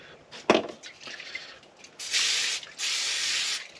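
Cooking spray hisses onto thin pizza dough inside a heated camping tent in frigid weather: two close, sustained sprays follow a sharp knock and faint handling noises.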